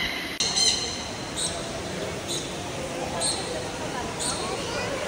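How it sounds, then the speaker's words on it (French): Parrots squawk in repeated bursts at a distance, several calls spaced about a second apart over a steady noisy outdoor background; a brief voice comes in early. "regarde les perroquets là-bas!"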